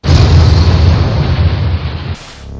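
A loud, booming explosion effect from the gothsploitation film Learning Hebrew erupts at once and rolls on as a dense roar, decaying over a couple of seconds before cutting to a quieter tail.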